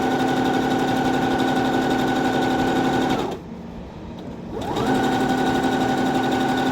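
A sewing machine runs steadily while stitching a red fabric circle applique, its motor whirring loud and close. It stops abruptly for about a second and then starts again at the same even pace.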